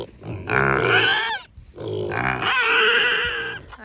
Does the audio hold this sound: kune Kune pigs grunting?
yes